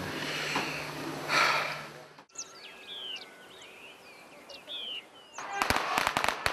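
Firecrackers burst in a quiet mountain village of the Yao minority in China: a rapid string of sharp, loud cracks erupts near the end, after birdsong and a stretch of broadband rushing noise.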